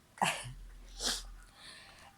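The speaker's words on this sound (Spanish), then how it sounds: "Recuerden que hay que estornudar así." A performed sneeze from a children's story narrator demonstrating proper sneezing etiquette: a sharp close burst, a second breathy sneeze-like gust about a second later, then soft trailing breath in a quiet room.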